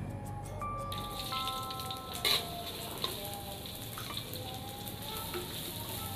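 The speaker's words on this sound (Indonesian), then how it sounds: "Setelah minyaknya panas, kemudian kita masukkan bawang bombaynya guys." Onion sautés in hot oil with a soft, continuous crackle and patter of sizzling, close but quiet, with a brief utensil knock partway through.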